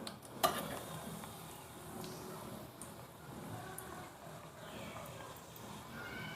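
Chicken cutlets deep-frying in oil until golden brown: a faint, steady bubbling sizzle with a sharp clink near the start, otherwise continuous and quiet with no voice.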